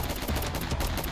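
Rapid bursts of Roblox gunfire, dense and continuous for about a second, loud and close.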